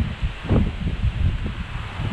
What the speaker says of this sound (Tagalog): Tapos napakalakas ng hangin.